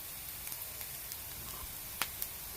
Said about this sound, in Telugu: పచ్చిమిరపకాయలు, కరివేపాకు వేసేద్దాం